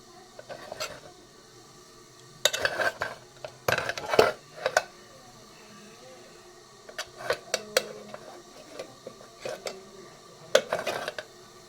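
Steamed idlis being lifted out of an oil-brushed idli mould: scattered clinks and clatters of metal utensils and mould plates, coming in short bursts with quiet pauses between them, close by.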